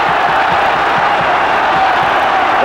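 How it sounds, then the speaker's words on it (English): Boxing crowd in a Dublin arena roaring steadily as a fight nears its end, a dense continuous wall of cheering and shouting, loud and close, with no clear individual voices. "The crowd again rising to the occasion as they sense the end"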